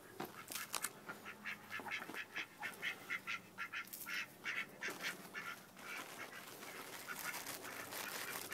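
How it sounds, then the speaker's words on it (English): A duck quacks repeatedly in a steady series of nasal calls, close and fairly loud, with no voices present. "we got a literal duck"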